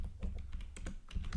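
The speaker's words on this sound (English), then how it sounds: "let's see what happens if I keep on typing" Rapid typing on a computer keyboard: a dense run of close, crisp key clicks in an uneven, steady rhythm, with no voice over it.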